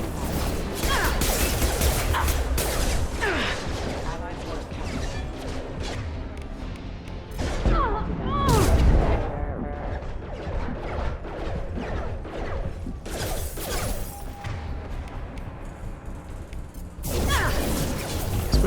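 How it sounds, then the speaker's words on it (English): A biotic singularity and warp combo detonates in Mass Effect 2, a heavy booming blast amid ongoing combat whooshes, crashes and weapon fire, loud and close. "And then we'll fire off a warp, which should combo. A nice explosion."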